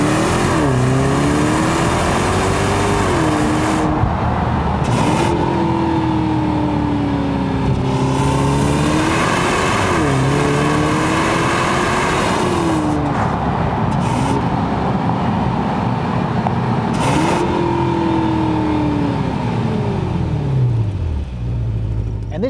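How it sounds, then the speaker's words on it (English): A 2020 Mercedes-Benz GLS 580 with a 4-liter twin turbo V8 revving repeatedly, loud rising and falling engine pitch sweeps with deep exhaust rumble, steady and close throughout, with someone talking briefly over it. "this is the new 4-liter twin turbo V8"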